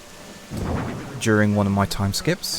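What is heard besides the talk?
rain in Animal Crossing New Horizons video game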